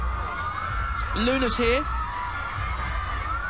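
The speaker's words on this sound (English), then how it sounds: "The crowd very excited." Excited crowd cheering and whooping at the Harry Potter film premiere, with a continuous roar of fans throughout and a brief burst of shrill yells near the middle, while a presenter talks over it.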